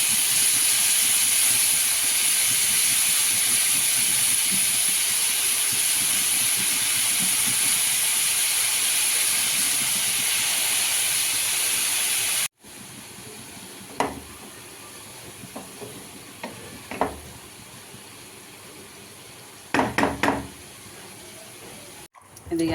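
Chopped cabbage goes into a pan already holding onion, green chili, garlic paste and turmeric. A loud, steady sizzling hiss fills the first half, then it cuts to a quieter scene with scattered clinks and clatter.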